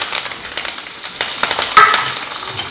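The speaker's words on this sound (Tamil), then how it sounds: "நல்லா வதக்கிடுங்க. வெங்காயம் வதங்கட்டும்." About ten small shallots, two green chilies and curry leaves sauté in hot oil for sambar, giving a steady crackling sizzle with sharp pops and brief spatters, close and moderately loud with no talking.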